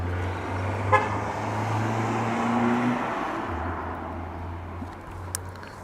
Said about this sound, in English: Sorry about the noise on the road